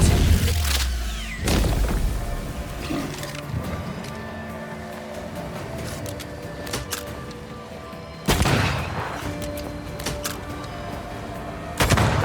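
Loud gunshots in the video game Banishers: Ghosts of New Eden, sharp booming blasts at the start and two more later, separated by quieter ambient rumble and tones.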